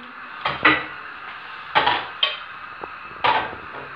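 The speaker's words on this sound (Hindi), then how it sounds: "इनको खाली कढ़ाई में मैं इनको फ्राई कर रही हूँ" A utensil stirs moong lentils being dry-fried in an empty kadhai with no oil, making about five sharp metallic clanks and scrapes, close and clear, with no talking.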